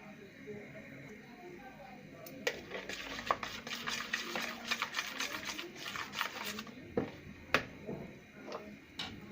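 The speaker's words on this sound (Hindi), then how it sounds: "अब हम इसको जो है ना अच्छी तरह मिक्स कर लेंगे।" A spoon stirs and mixes spice masala with vinegar for chicken in a bowl, quick irregular clinks and scrapes against the dish under steady kitchen background, fairly faint and close.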